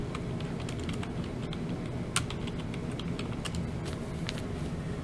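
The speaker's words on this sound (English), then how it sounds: "Let me just type in Beurax review." Quiet, steady keyboard typing as a search is entered on a computer, with a run of close, light key clicks and occasional louder taps over faint room hum.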